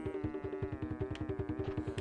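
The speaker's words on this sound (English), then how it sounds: "the bees will still chase us while we're invincible" Bees buzzing as they chase Crash in Crash Bandicoot 2: Cortex Strikes Back, a steady droning hum pulsing in a fast, regular rhythm, close and fairly loud with no voices.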